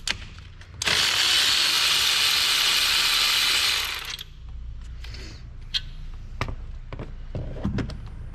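Ratchet wrench backing out alternator bolts on a Dodge 4.7 V8 engine, a loud continuous buzzing burst of rapid clicks lasting about three seconds, then softer scattered ticks and clanks as the bolt is handled.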